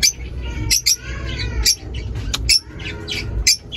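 Several African lovebirds chirping and tweeting nearby in an enclosed aviary, in short, scattered calls over a low background rumble, with no voices.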